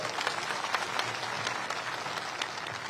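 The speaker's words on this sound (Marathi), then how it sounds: "एकदा पुन्हा माझ्यातर्फे जोरात टाळ्या वाजवून त्यांचं स्वागत करा" A rally crowd claps steadily in welcome for Devendra, a dense, sustained burst of applause heard at a moderate distance with no talking over it.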